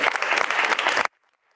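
A short, loud burst of audience applause at a school board meeting for a girls golf team, dense clapping that cuts off abruptly after about a second, leaving near silence.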